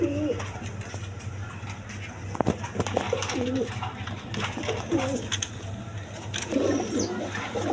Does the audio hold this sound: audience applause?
no